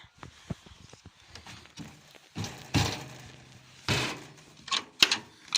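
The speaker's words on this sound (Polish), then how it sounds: "drzwi przemarzają, trzeba tak lekko wbić, żeby się zamknęły" Several knocks and thuds come from a frost-stiffened door on a rabbit hutch as it is tapped shut in winter, scattered across the clip at varying loudness and close by.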